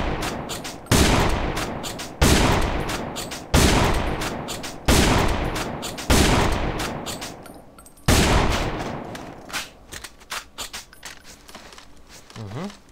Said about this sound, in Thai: โอเคเรามาลองนั่งยิงกันบ้าง